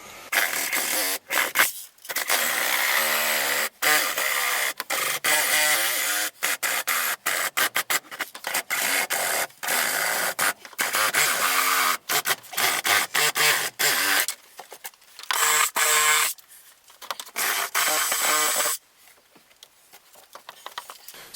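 A Sawzall reciprocating saw cuts a hole during a propane heater install, a loud, close buzzing rasp in bursts of varying length broken by short pauses as the trigger is released and pressed again.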